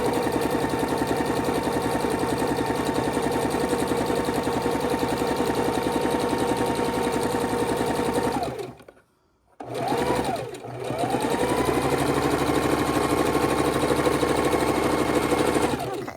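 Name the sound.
sewing machine sewing quilt blocks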